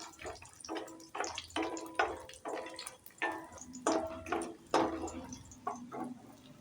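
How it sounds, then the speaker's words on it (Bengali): Bori, small lentil dumplings, sizzle lightly in hot oil, with uneven bursts of spattering and bubbling that rise and fall close by, with no talking. "বড়িগুলো একটু হালকা ভেজে নেব, লালচে করে।"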